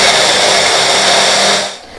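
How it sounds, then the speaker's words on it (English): A kitchen blender grates tomatoes for a Turkish breakfast, giving a loud, steady high-pitched motor whir that runs unbroken for almost two seconds and then drops off at the end. "The easiest way to grate the tomatoes is using a blender."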